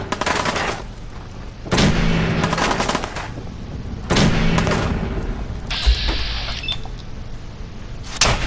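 Loud, close gunshots and heavy booming blasts in the Fallout 4 video game come in several bursts, separated by short lulls of softer ambient noise.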